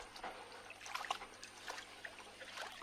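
Water trickles and drips while an aquarium fry filter media bag is rinsed, a faint, irregular dribbling with small splashes and bubbly spatters, close by and without speech.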